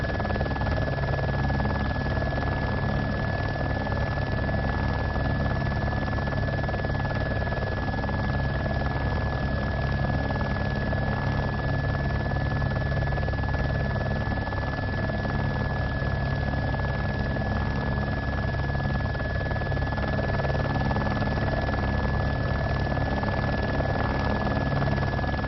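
A damaged helicopter flies in the military video game Arma 2, producing a steady, unbroken rotor and engine drone with a constant whining tone that holds evenly throughout.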